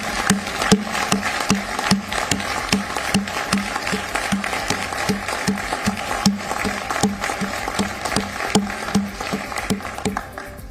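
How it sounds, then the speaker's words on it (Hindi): Steady applause fills a G20 summit hall, many hands clapping close and continuous for the full stretch with a dense, even rhythm and no voices over it. "तालियों से गूंजने लगा।"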